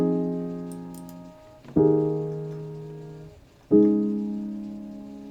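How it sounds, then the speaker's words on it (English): A soft, mellow piano synth patch plays sustained chords, three struck in turn and each left ringing and slowly fading before the next, calm and clean with no other sounds. "the soft piano sounds like this"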